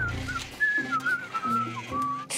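A cartoon character whistles a jaunty, wavering tune in short phrases, close and clear over a light musical background.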